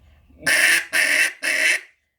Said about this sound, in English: So if I would use the back end of my throat, that'll be my deepest duck.